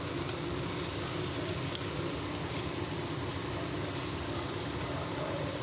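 Chicken gravy sizzles and fries in hot oil in a pan, a continuous crackling hiss that stays even and close throughout.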